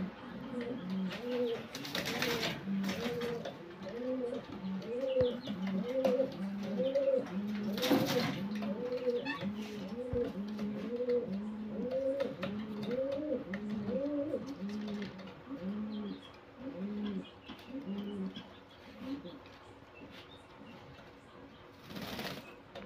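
Pigeons coo in a repeated rhythmic series of soft, low, rounded calls, close and fairly quiet, with a few brief bursts of wing flapping and faint background noise.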